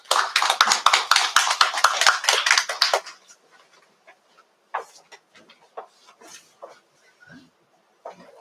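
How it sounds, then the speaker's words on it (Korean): An audience at a high school parents' information session gives warm, dense applause for about three seconds, then it thins into scattered, fading claps and a few isolated taps. "큰 박수로 환영해 주십시오."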